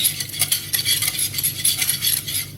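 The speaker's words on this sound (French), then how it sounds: "On mélange un peu." Spinach and bacon tart filling with light cream being stirred in a bowl, a quick run of close, rhythmic wet clinks and scrapes from a utensil, alone without talk.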